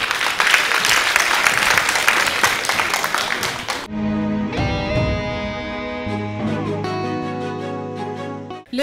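Audience applause at a Guinean youth human rights debate final, a dense wash of clapping for about four seconds that then gives way to music and broadcast sound.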